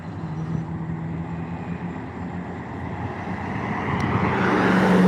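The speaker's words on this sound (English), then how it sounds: "Convertible Corvette." A convertible Chevrolet Corvette approaches and passes outdoors, its broad engine and road noise swelling steadily louder toward the end.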